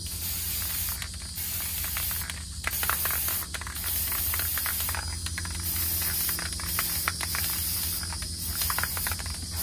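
Spray paint hisses steadily from an aerosol can onto a resin-coated wine glass, a continuous close spray broken by a few brief pauses between bursts.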